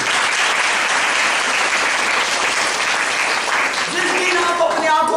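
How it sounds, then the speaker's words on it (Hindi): Loud, sustained congregation applause during a Hindi-language church service, a dense and continuous roar of clapping from a large crowd, with a voice rising over it near the end. "एक बार जोरदार यीशु के लिए ताली बजाइए।"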